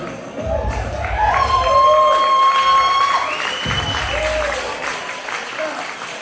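A crowd at a live sober recovery show applauds and cheers steadily, with scattered whoops and shouts rising over the clapping as a voice calls out nearby.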